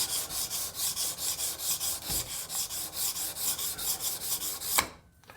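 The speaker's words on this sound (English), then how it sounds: "I'm just going to just flatten the burrs off." A scraper blade is rubbed back and forth on an oiled sharpening stone to flatten its burrs, giving close, rhythmic rasping strokes about three per second, steady and alone, ending with a final louder scrape and stop.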